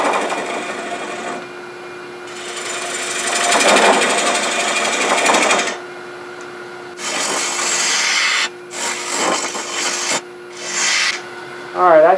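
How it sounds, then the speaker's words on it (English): A bowl gouge cuts a 13-inch cherry wood bowl on a lathe, giving a rough, scraping hiss that comes in several long bursts with short pauses between them. No one speaks. "Start the cut."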